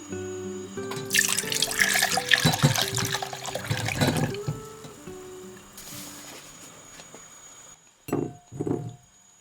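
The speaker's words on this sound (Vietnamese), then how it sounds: "Trứng cút thì mình dùng trứng hộp lọc nước bỏ đi ha" Canned quail eggs drained of their liquid: water pours and splashes with glassy clinks and rattles, loud at first, then tapering to a few short pours and knocks near the end, up close with no talk.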